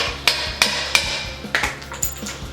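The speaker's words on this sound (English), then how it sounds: "If the crank is stuck in the bottom bracket, you might have to give it a few taps just to get it out." A stuck BMX crank is tapped out of the bottom bracket with a hammer, giving six or seven sharp metallic knocks in an uneven rhythm, loud and close, with no talking.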